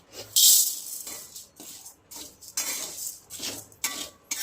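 Barnyard millet and sabudana being dry-roasted together in a pan, stirred with a utensil that makes repeated scraping, rattling strokes close by at an uneven rhythm.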